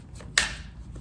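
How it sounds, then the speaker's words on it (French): Tarot cards riffle in a single quick shuffle, a short, close, papery burst that fades out quickly, with nobody talking. "Pendant que je bats les cartes."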